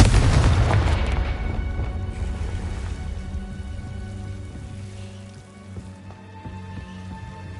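A Confringo spell blast in the video game Hogwarts Legacy: a loud, booming burst with a heavy low rumble that slowly fades over several seconds into a lingering rumbling tail, with no talk.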